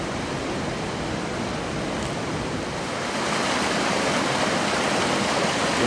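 White water rushes down a mountain creek in Montana as a dense, unbroken roar, steady and close, swelling slightly louder toward the end with no voices.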